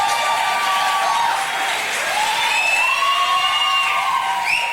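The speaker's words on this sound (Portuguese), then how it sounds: "vamos dar salve de palmas pro Gabriel, fiquei em pé." A church conference audience claps and cheers loudly and continuously, dense applause filling the space with whoops and shouts rising over it.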